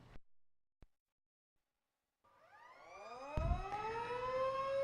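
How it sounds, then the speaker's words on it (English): Industrial emergency warning siren winding up from silence after a couple of faint clicks, its steady rising wail growing louder and holding, heard alone and fairly distant. "When the siren goes off for 10 seconds 3 times in a row, you must stop working and secure your equipment"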